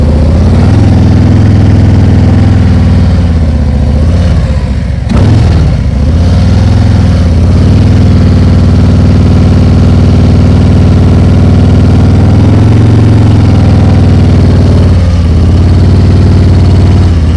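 A motorcycle engine idles and runs at very slow speed during low-speed riding practice, a loud, steady, close rumble with a short dip in the middle, no talking.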